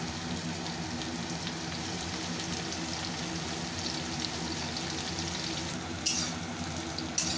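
Finely chopped pointed gourd fries in hot oil left from frying tangra fish, giving a steady, loud, unbroken sizzle with a few brief crackles and no talk.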